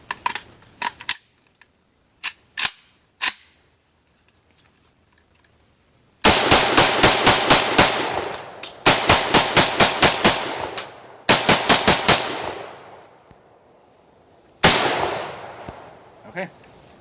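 A Romanian M10 DIY AK-47 rifle being test fired outdoors: a few sharp single shots, then several loud rapid-fire strings of cracks, each burst followed by a brief pause.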